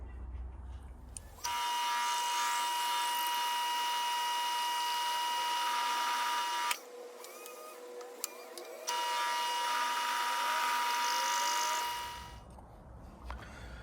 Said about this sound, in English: So got that drilled out.